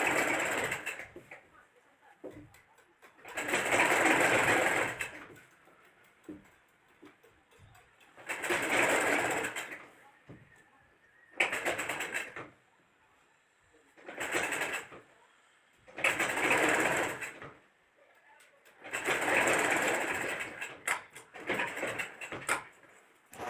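A sewing machine stitches the seam of a churidar pajama in repeated whirring bursts of a few seconds each, close and steady, with short quiet gaps between runs and faint bird cooing in the background.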